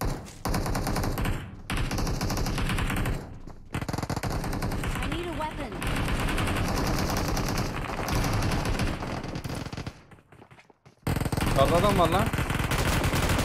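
Rapid automatic gunfire in the PUBG Mobile game, dense bursts of loud shots with brief pauses between them, mixed with excited gamer voices talking over the fighting.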